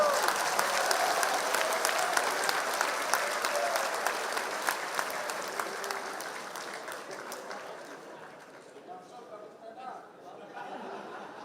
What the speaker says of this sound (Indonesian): memberikan tepuk tangan kita untuk Bapak Bambang Susatyo